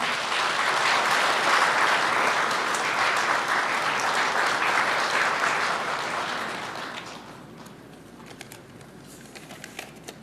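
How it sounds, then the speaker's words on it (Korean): A large crowd at a Labor Day ceremony applauds the Korean trade union federation chairman as he comes up to speak. Loud, sustained clapping lasts about seven seconds, then thins out into a few scattered claps and quiet. "박수 부탁드립니다."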